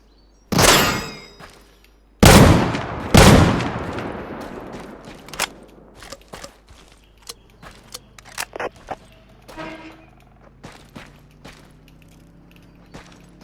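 Rifle fire in the video game Deadside: a few loud, sharp shots with echoing tails, followed by scattered lighter clicks and clacks of handling and reloading.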